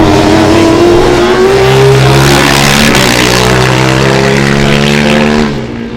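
TU Munich Formula Student race car on an autocross course, a loud, high-revving engine close by, pitch climbing and dipping through gear changes and corners before fading slightly at the end.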